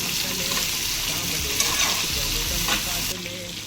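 Curry leaves are fried and stirred in a pan of Konkani dried-shrimp kolim with mango pieces, giving a loud, close, continuous sizzle with scraping stirs and no talking.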